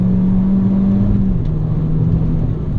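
A Peugeot 208 GTI 30th with BPS differential revs hard while driving, its engine note loud and steady with a pitch that holds and then drops slightly, heard close from inside the car with no talking.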